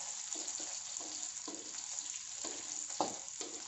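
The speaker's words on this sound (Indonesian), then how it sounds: "Kita tumis dulu." Spices and ginger sizzle steadily in a hot pan for tom yam while a utensil scrapes and stirs in repeated strokes, close and fairly loud.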